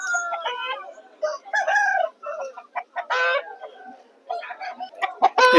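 Roosters call repeatedly nearby at a rooster market in Vijayawada, crow-like bursts mixed with clucks in short irregular phrases.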